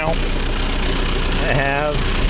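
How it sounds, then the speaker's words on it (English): A 12-year-old New Holland tractor engine idles steadily up close, a continuous rough low rumble with a brief rising tone partway through. "I don't know if I mentioned my New Holland tractor. 12 years old now."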